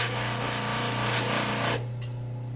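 Gun metal being hand-polished with 500 grit abrasive to a satin finish, a continuous close scratchy rubbing with a steady low hum underneath that cuts off sharply near the end.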